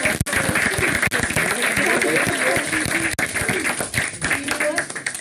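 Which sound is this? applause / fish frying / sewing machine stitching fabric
applause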